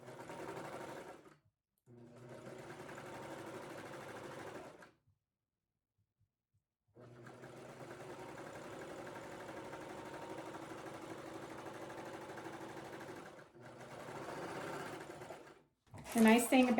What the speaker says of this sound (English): I'm going to use my serger, but you could certainly use your machine on a zigzag setting.